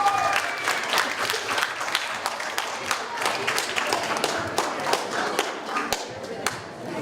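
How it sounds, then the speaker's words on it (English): Audience applause at a youth festival spelling bee for an eliminated contestant, moderately loud scattered clapping with distinct individual hand claps standing out, steady for several seconds, with faint talk underneath. "please give him a big round of applause"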